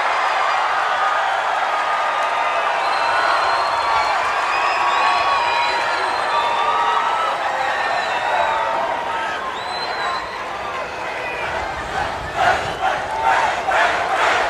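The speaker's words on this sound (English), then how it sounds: "Crowd seems happy, Connie." A wrestling arena crowd at Madison Square Garden roars and cheers steadily, a dense far-off wash of voices with whoops and scattered clapping rising near the end.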